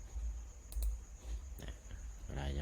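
Scattered key clicks from a computer keyboard, a few sharp taps over a low background hum, with a brief murmur near the end.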